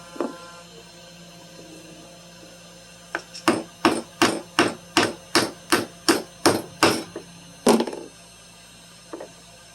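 A hammer strikes a poor-quality chisel driven into wood: about a dozen sharp, evenly spaced knocks, close and loud, then a heavier blow and a last faint tap, with no talking.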